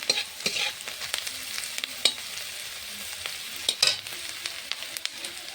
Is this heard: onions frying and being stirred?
yes